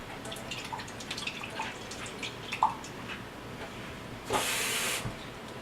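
Water is poured from a tomato soup can into a pan of BBQ pork ribs on low heat, with scattered drips followed by a short, loud hissing splash near the end.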